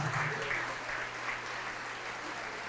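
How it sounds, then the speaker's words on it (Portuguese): A church congregation applauds in steady, continuous clapping that holds at a moderate level throughout, with no one talking over it. "Vamos aplaudir mais"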